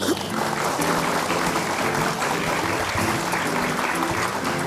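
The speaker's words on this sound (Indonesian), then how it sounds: "kita kasih tepuk tangan" Studio audience applause rolls on steadily for a guest's entrance on a TV talk show, with music sounding beneath the clapping.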